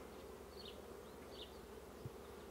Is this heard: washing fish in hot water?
no